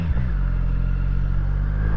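Triumph Street Triple 765 motorcycle engine idling close by, a loud, steady, low throb running without pause and without any talk.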